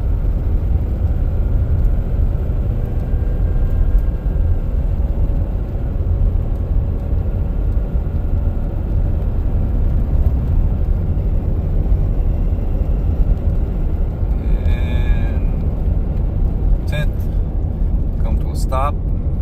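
A 2021 Ford F450 diesel truck accelerating during a transmission relearn drive cycle, heard from inside the cab as a loud, steady low engine and road rumble that runs throughout, with a few brief beeps near the end.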